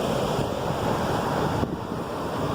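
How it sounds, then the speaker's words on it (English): River rapids rush in a steady, loud, unbroken roar of churning water, with wind buffeting the microphone throughout and no voices. "we literally hit the water right there, and we're dealing with rapids right there"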